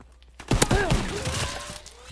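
Burst of gunfire and mortar blasts in a WW2 video game, a cluster of sharp impacts that then trails off, with a voice talking over it.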